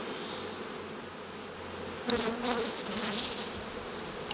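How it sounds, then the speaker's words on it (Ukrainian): Honey bees buzz steadily inside an Ukrainian-Alpine hive around a queen being fed, a soft continuous hum that swells into denser, brighter buzzing midway and stays close without any talk. "Бджоли годують матку."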